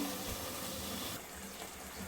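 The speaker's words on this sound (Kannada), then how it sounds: "ಅಷ್ಟು ಎರಡು ಪಟ್ಟು ನೀರನ್ನು ಹಾಕೋತಾ ಇದ್ದೀನಿ" Water poured from a tumbler onto rice in a pot while making Kannada-style tomato bath, a steady close splashing gush that eases slightly partway through, with no voices.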